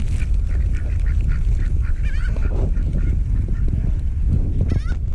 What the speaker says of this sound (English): All kinds of birds.